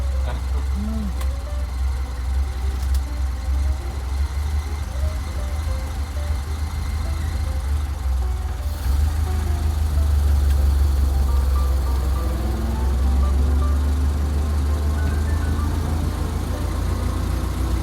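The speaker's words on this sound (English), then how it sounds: "Now I know what it's like to drive a brand new Model A." A Ford Model A engine runs steadily while driving, a loud low rumble throughout with someone talking over it.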